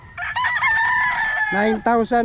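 Gamecock stags crow loudly and close by on a farm, one long drawn-out crow followed by short clucking calls from another bird.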